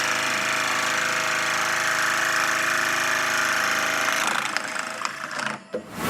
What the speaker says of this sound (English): I'm gonna cut this 3/8 plug out